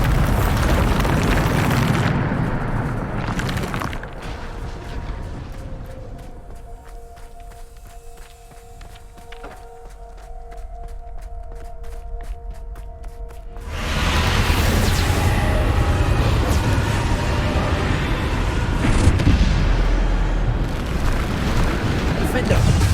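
Bombarda spell explosions in Hogwarts Legacy, heavy booming blasts with rumbling, crackling debris, loud at the start and again after a quieter stretch, with game sounds and voices in between.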